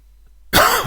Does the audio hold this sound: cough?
yes